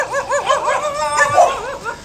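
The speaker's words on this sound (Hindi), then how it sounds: "कुत्ते भी यहाँ के परेशान हो गए" Dogs at a Karachi camel market bark and yip in a rapid, overlapping series of high, whiny calls, loud and close, continuous for about two seconds.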